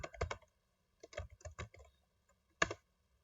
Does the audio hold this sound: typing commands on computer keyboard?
yes